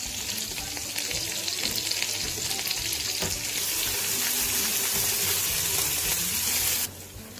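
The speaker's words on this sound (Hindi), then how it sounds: "लहसुन अदरक को भी फ्राई किया है, देखिए" Garlic and ginger paste fries in a pan with a loud, dense, steady sizzle, a few clinks of a utensil in the middle, and then the sizzle drops off sharply near the end.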